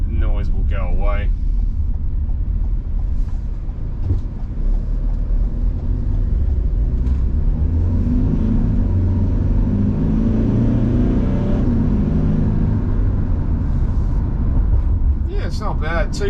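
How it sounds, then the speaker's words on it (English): Steady road noise inside a 2021 Toyota HiAce LWB turbo diesel van cruising at about 70 km/h, a constant low rumble and hum with a person talking over it. "if you have a listen, the road noise now, we're doing about 70 k's"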